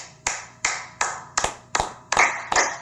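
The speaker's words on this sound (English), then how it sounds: "I'm clapping because my boy lost his V-card" Hand clapping in slow, deliberate single claps, about seven sharp strikes spaced roughly half a second apart, close and loud with no voices over them.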